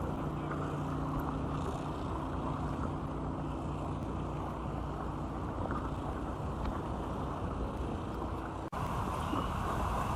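A fire department boat motor drones steadily in the distance on Lake Erie, a low continuous hum mixed with wind and water noise.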